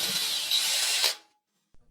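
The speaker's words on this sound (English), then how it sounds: "he still needs to drill out the 4 pinholes inside for the final assembly" A power drill bores pinholes through the handle scales of a restored rusty machete, one steady high whine lasting about a second before cutting off, followed by a faint tap.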